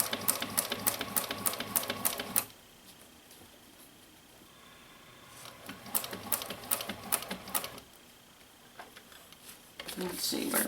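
A sewing machine stitches around a tote bag pocket in quiet, rapid ticking runs, pausing in between, with a soft voice talking over parts of it.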